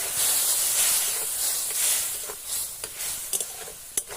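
Green chillies and mustard paste hit hot oil in a pan for spicy tilapia curry, giving a loud, steady hiss and sizzle that eases into crackling pops.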